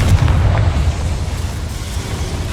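Confringo fire spell exploding in the Hogwarts Legacy video game, a loud, deep booming blast with a rumbling low roar that sustains and slowly fades over a couple of seconds.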